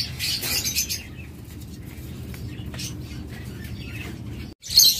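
Pet birds in a bird shop selling parrots, lovebirds, cockatiels and diamond doves chirp in quick bursts, loudest at the start and end, over a low continuous background murmur.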